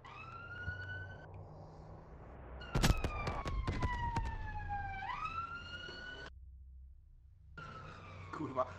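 A police car siren wailing in a Call of Duty WW2 game, its rising and falling tones sweeping over gunfire bursts and engine rumble, fairly loud, then cutting out and returning briefly.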